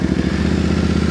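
A water-soaked motorcycle engine starts and runs close and loud, a steady rapid chugging idle with a slight clatter.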